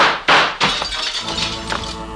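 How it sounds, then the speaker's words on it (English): Gunshots smash through a door's glass panel in an old radio drama, two sharp impacts followed by loud shattering and tinkling fragments under a hissy broadcast tone. "The shots came in through the door glass."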